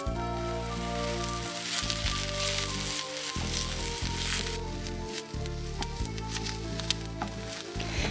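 Spices sizzle steadily in a hot pan just before beans go in for a Transcarpathian dish, a continuous frying crackle partly buried under loud, sustained background music.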